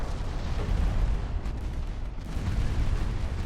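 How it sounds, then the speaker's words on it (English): Light cruiser secondary guns firing in the naval warfare game Ultimate Admiral Dreadnoughts, a dense, continuous rumble of overlapping booms and blasts that stays loud throughout, with no voices. "Secondary guns on that light cruiser"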